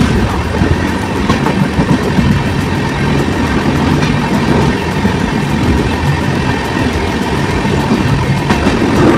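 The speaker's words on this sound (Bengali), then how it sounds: "দেন ট্রেনটা স্পিডে ছুটতে থাকে আর আমরা কিছু ভিডিও ক্যাপচার করতে থাকি" The 12343 Darjeeling Mail passenger train runs at speed near the Farakka bridge over the Ganges, a loud, continuous rumble with rhythmic clickety-clack of wheels on rail joints, close and sustained with no talk.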